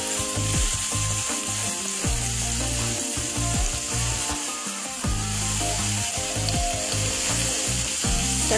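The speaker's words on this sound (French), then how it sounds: "Je vais les cuire sur le Tefal." Hamburger patties fry in olive oil in a Tefal pan, a dense continuous crackle and sizzle running loud and steady throughout with no voices.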